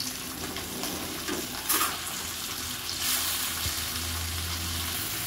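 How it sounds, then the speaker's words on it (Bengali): Pieces of catla fish fry in hot oil, a steady crackling sizzle with occasional louder spits and a low hum underneath, heard close up. "মাছগুলি দেখো কেমন ভাজা হচ্ছে একটু লালচে করে ভাজবো"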